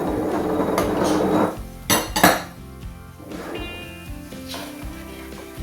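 Carrots and celery tipped into a pan of garlic for a chicken pot pie, with clattering pan and utensil clinks, a sharp knock around two seconds, then a softer settling rattle; no talking.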